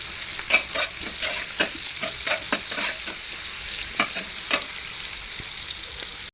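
Sliced onion stirred and fried in a pan, a steady bright sizzle broken by a string of sharp scraping clicks as a spoon works through it, close and alone with no voices.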